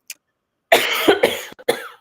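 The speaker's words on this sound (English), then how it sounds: "I am coughing." A person coughs several times in quick succession, close and fairly loud, after a brief faint sound and a short pause, with no talking.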